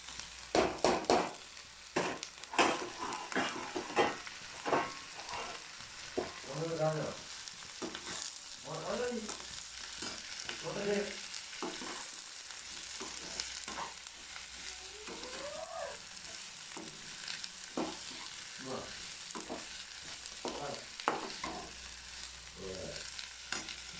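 Chopped ivy gourd (kovakka) frying in a pan, a soft steady sizzle broken by repeated scraping stirs of a spoon, close and fairly quiet throughout.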